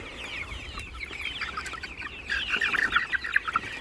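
Turkeys clucking and chattering in a garden during rain, a busy flock of overlapping calls that grows louder and denser toward the end over a steady low background rumble.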